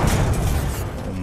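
A bot blows up in the video game Titanfall 2, heard as a loud, dense, sustained boom that stays heavy for the full moment.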